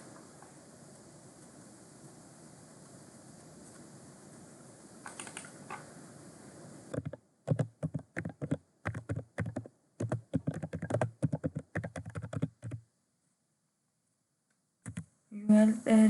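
Fingers type on a computer keyboard while entering data into a spreadsheet, quick irregular bursts of close clicking keystrokes after a low steady hum, with short pauses, then silence and a final flurry.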